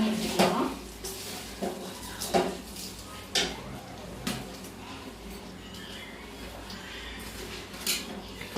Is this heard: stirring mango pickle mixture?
yes